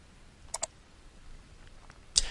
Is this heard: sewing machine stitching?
no